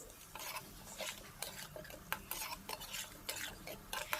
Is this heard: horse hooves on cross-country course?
no